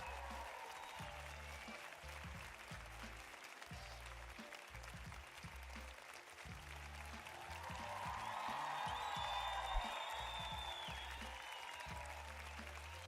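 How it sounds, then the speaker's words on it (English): A studio audience at a D&D homebrew challenge breaks into a steady round of applause that carries through the whole stretch and swells slightly louder toward the end, with a faint low hum underneath. "Let's give Spag a round of applause."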